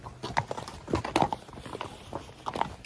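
Hooves clop on the ground as three horses are led back out to the field, making a steady, uneven walking rhythm at close range with no one talking.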